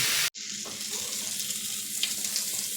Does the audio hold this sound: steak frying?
yes